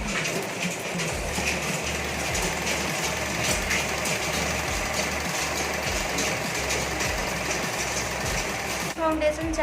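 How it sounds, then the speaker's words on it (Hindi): Sewing machine stitching face masks in a small workshop, a fast rhythmic mechanical whirr with a low repeating thump, loud and close, under faint chatter in the background. "यहाँ पे हम लोग मास्क का सिलाई कर रहे हैं।"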